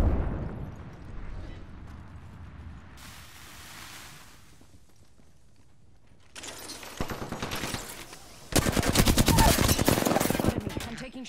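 Gunfire in the video game Apex Legends, with scattered shots early on, then bursts of rapid automatic fire that grow louder and denser toward the end, mixed with game effects.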